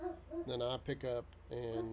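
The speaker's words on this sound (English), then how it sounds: "Excuse the dog in the background." A dog yips and whimpers faintly in the background while someone speaks over it in the foreground, the animal sounds short and intermittent beneath the talk.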